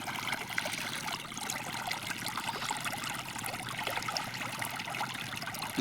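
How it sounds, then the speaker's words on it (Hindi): Steady trickling water running into a rice paddy during irrigation in Assam, a continuous close flow with no voices. "ধান খেতে পানি দিতেছি।"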